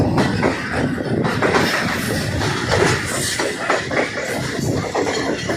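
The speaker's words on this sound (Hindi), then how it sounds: "शालीमार एक्सप्रेस क्रॉस देते हुए 41 नंबर कराकरम एक्सप्रेस को" Pakistan Railways Shalimar Express passing the Karakoram Express at a crossing, heard as a steady, loud rolling rumble of coaches with rhythmic wheel clatter running throughout.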